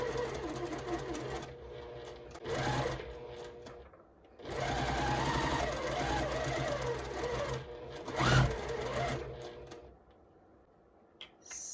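Sewing machine stitching a quilt block seam, steady mechanical whirring in two long runs with a brief pause between, close and moderately loud.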